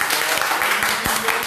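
Audience applause at a celebrity TV show, dense steady clapping filling the space with a few louder individual claps and faint voices underneath.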